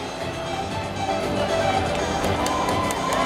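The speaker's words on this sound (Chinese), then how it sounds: "掌声鼓励。" Crowd at a charity all-star baseball event in Taiwan breaking into applause and cheering, a broad wash of clapping that swells toward the end, with voices mixed in.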